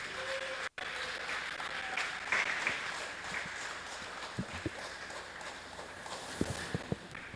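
A church congregation claps for the Lord in a dense, steady wash of hand claps, with a few sharper, louder claps standing out near the end.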